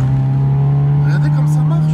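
A car engine runs loud and close in a steady, droning tone that swells briefly midway.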